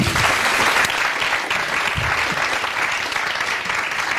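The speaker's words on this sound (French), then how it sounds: "Applaudissements." Studio audience applauding on a Burkinabè RTB television show, loud, dense, continuous clapping filling the room for the whole stretch.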